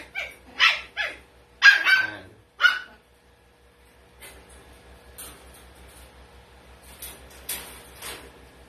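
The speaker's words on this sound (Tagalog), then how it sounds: "teacup na Pomeranian na bird type" A tiny teacup Pomeranian at a pet market in Bulacan gives four or five sharp, high yips in quick succession, close by, followed by quieter background noise with a few faint sounds.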